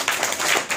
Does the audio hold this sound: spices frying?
no